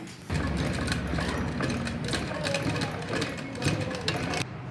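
A sewing machine runs steadily, stitching the hem of a pair of baby shorts along a folded one-inch strip, its close mechanical whir continuous for several seconds before stopping near the end.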